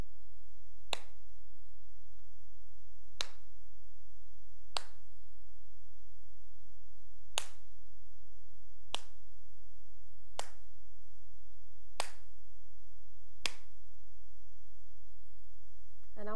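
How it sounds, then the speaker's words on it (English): Sharp hand claps for a microphone clap-counter experiment, eight single claps spaced about one to two seconds apart, each crisp and isolated against quiet background hum. "I have made one clap."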